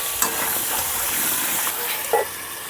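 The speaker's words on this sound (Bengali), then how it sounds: "আলুর মধ্যে দিয়ে দিচ্ছি আমি একটু লবণ, হলুদ, ভেজে নেব এখন লাল করে।" Potatoes fry in hot oil with salt and turmeric, a constant close sizzle broken by a couple of sharp stirring scrapes and clinks.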